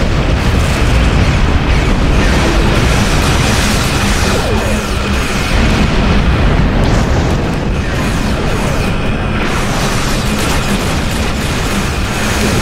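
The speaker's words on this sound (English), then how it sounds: "check out that cannon scatter volley with my wing cannon platforms" Wing cannon volleys and explosions roar in a Star Trek Online space battle with Andorian escort ships, a dense, loud, continuous barrage of booms and crashes layered without pause and no voices.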